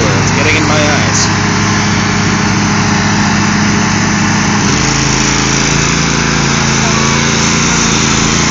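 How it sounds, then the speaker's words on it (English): A lawn mower with its blades engaged roars loudly and steadily close by, its engine note shifting partway through and then holding a rougher drone. "that's what happens when the blades of the mower are turned on"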